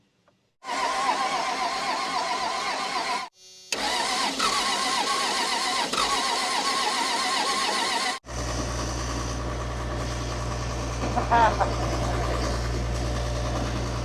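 An old junk car's engine is cranked by the starter in repeated long bursts with a short pause between them. It then catches and settles into a loud, steady idle rumble close by.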